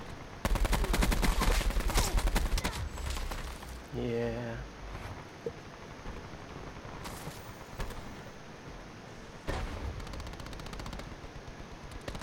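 Auger DMR rifle fire in Call of Duty Black Ops 4, a dense burst of rapid shots up front, then scattered single cracks and bursts under game sounds and a player talking.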